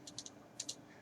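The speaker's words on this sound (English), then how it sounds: "So I will type a word and so I will type a sentence." Quick bursts of keystrokes on a computer keyboard as a sentence is typed: two short clusters of light, close clicks with a quiet gap between them.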